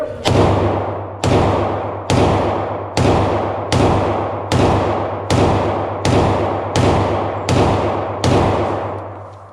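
Eleven loud gunshots ring out at a gun range in an even, rapid rhythm roughly a second apart, each sharp blast followed by a booming decay, with no talking in between.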